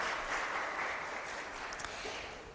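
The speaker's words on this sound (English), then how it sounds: "A round of applause for Mrs. Marie Smith Hall" A steady, fairly quiet wash of audience applause at a tourism youth expo and career fair, a dense even patter of many hands that fades slightly toward the end.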